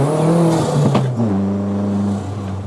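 A turbocharged Rover Metro with about 277 bhp revs hard from inside the car, its engine drone climbing and then dipping as the boost comes in, loud and close.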